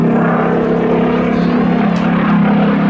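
A Supermarine Spitfire PR.XIX with a Rolls-Royce engine at an air festival airfield, heard as a steady, loud propeller drone with a deep, even hum that holds constant throughout, close by.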